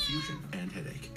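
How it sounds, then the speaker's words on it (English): A pet cat meows in a short, drawn-out cry up close, heard alone. "That's one of my kitties."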